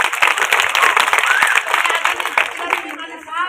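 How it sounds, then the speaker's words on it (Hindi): An audience at a domestic women workers' International Women's Day gathering claps loudly, a lively burst of many hands with a few voices and cheers mixed in, easing off toward the end. "एक जोरदार तालियां हमसे बजा दो"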